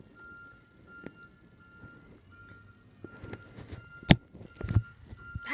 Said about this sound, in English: I didn't know I was gonna see the trash truck this early.